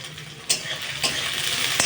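Potatoes, carrots and onions are stirred in a frying pan for chow mein, with scraping stirs and clacks of the utensil over a steady close sizzle of hot oil.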